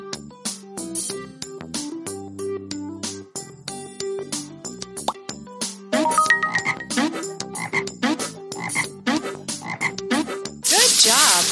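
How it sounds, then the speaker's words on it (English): Cartoon frog croaks from a children's educational game for first graders, repeated electronic croaks over bright game music with chimes and plops, loud and close, ending in a burst of sparkly noise. "Help your frog cross the pond first."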